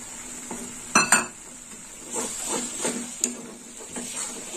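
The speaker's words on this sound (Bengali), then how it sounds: "এবার দিয়ে দেবো টমেটো বাটা। এখানে 2টো টমেটো নিয়েছি, ছোট ছোট টমেটো বাটা দিয়ে দিলাম।" Ground paste of two small tomatoes hits spiced green jackfruit curry in a pan, sizzling softly while a spoon scrapes and clinks against the metal in a few sharp knocks and slower stirring strokes.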